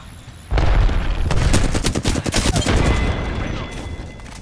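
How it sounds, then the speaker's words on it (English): Rapid bursts of gunfire from an Apex Legends match, a loud crackling volley of quick shots that starts abruptly and rattles on for a few seconds before thinning out. "Shots fired."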